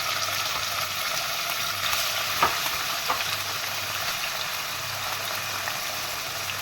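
Chicken fries in about two tablespoons of oil, a steady close hiss of sizzling with a couple of faint clicks from a utensil, and no one speaking.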